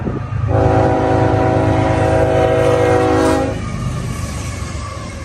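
CN freight train X317 hauling military equipment sounds a loud multi-tone horn for about three seconds over a steady rolling rumble, close by, with no talking.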